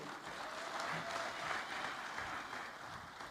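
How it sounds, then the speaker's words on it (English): Sustained crowd applause at a political campaign rally in Lusaka, Zambia, many hands clapping steadily at moderate distance for several seconds, no speech over it. "Another round of applause for our incoming mayor."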